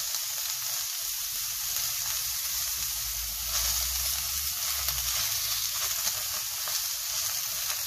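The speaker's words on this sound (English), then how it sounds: "Cook my pickles." Pickle slices for a steak sandwich sizzle in a frying pan, a continuous, even crackling hiss running close and alone for several seconds, with a soft low rumble partway through.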